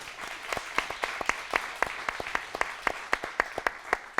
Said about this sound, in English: So a round of applause for our members.